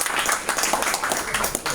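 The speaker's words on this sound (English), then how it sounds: "So if you want to stand up, we'll clap for you as well." Lunch guests at a Miami Beach steakhouse applaud briefly, a short burst of scattered hand clapping heard at moderate distance.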